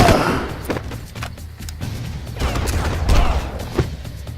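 Gunfire in the video game Far Cry: several sharp, loud shots and thuds in an irregular burst over a few seconds, with a little faint speech.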